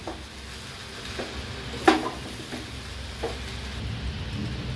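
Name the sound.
stirring muri ghonto in pan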